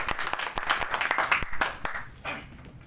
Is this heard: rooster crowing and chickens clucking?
no